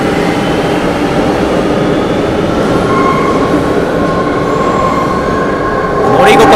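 A former Tokyo Marunouchi Line car rides through a Buenos Aires subway tunnel on third-rail power, giving a loud continuous rumble of wheels and a swaying body, with faint squeals and a rising clatter near the end.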